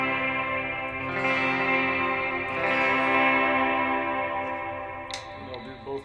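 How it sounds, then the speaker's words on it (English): A Squier Jaguar electric guitar plays a clean ambient tone drenched in echo and reverb, sustained chords ringing and layering on each other, with a few fresh strums and repeats trailing off, no voice over it. "if I switch to a more clean ambient tone"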